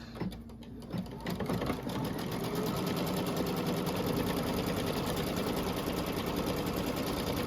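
Embroidery sewing machine stitching light beige thread on a drawstring treat bag, a fast steady mechanical rattle of the needle running continuously after a brief start, close and alone.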